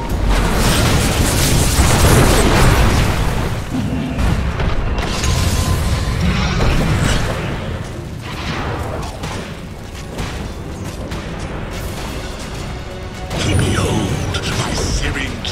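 Barracks are destroyed in a Dota 2 match: heavy booms and crashing rumble come loudest early on and again near the end, amid busy game effects and a spoken voice.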